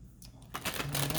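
A tarot card deck being shuffled, with quiet riffling and soft card taps at first that grow into a denser, louder flutter of cards in the second half, close up with no talking.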